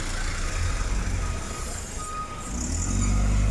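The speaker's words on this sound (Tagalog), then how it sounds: "may mga sasakyan na, na mga dumadaan dito" Cars and trucks pass along Alonzo Street in Santa Cruz, Manila, near a demolished barangay hall. The traffic rumbles loudly and continuously, and a heavier engine swells near the end.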